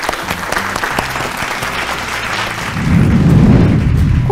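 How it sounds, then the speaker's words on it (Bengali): Studio audience at a family game show clapping, a dense patter of applause that swells louder and fuller toward the end, close and unbroken. "জোরে হাততালি প্লিজ"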